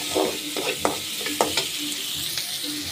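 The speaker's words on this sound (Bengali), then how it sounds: "পেঁয়াজ, কাঁচামরিচ, রসুন, চিংড়ি মাছটা ভালো করে ভেজে নিতেছি" Shrimp frying in a pan with onion, green chili and garlic, a steady hiss of sizzling oil broken by several scrapes and knocks of a spatula stirring, close and with no voices.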